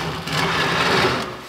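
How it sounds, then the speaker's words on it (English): A drill bores holes into a car trailer under restoration, giving a short, buzzing whine that rises, holds for about a second and tapers off, close and alone. "we just have to drill it"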